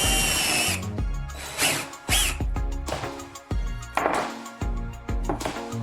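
A power drill fitted with a depth stop bores into a board, its motor whining in several bursts that spin up and slow down, close and loud, with small knocks between runs.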